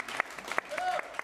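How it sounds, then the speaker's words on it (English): Audience at an improv comedy show claps briefly, a short scattered burst of applause with a voice speaking over it. "A round of applause for the farm."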